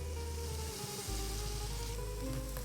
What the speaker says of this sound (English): Gonna put this directly on a hot pan. And this should fry up in no time, about 2 to 3 minutes on each side of bacon.